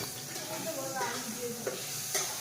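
Pabda fish curry with potatoes simmering in a pan, giving a soft continuous sizzle and hiss with occasional stirring clinks, while people talk quietly in the background.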